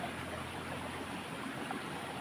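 A river flows steadily in a continuous broadband wash while someone fishes for small wader fish, with no talk and no distinct splashes standing out.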